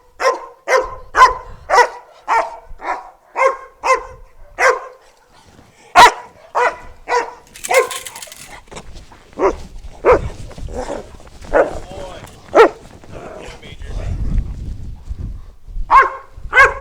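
Reactive dog barking in rapid repeated bursts, loud and close, with short pauses between volleys and a few whimpering yips mixed in.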